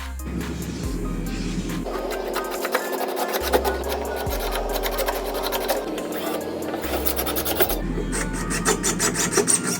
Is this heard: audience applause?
no